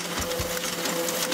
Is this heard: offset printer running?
yes